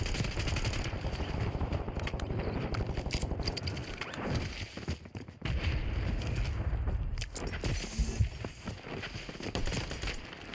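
Gunfire in a PAY TO WIN-style video game shooter with a SININ 9mm weapon: dense, rapid automatic bursts fill most of the stretch, pausing briefly midway, then resuming with sharper scattered shots.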